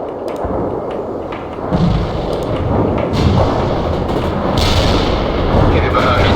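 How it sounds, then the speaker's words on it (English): A heavy artillery strike in the World in Conflict video game, with a dense, continuous barrage of deep booms and rumbling thuds that stays loud throughout, a constant roar with occasional sharper cracks. "Heavy artillery strike. Fire."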